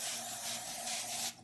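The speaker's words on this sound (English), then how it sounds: "Now with this one, I like to add a topping, so I spray the top" Olive oil cooking spray hisses from a can onto the top of a calzone on a baking sheet in one steady, close burst lasting just over a second before cutting off abruptly.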